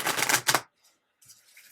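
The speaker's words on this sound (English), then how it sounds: "More shuffle, and then I'll cut." Oracle cards being shuffled by hand, two quick riffling bursts up close followed by a pause and softer card handling.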